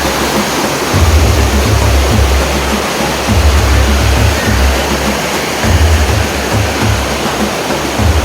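Antong Falls, running strong, gives a loud, steady roar of rushing water heard up close, with deep rumbling gusts that swell and fade throughout.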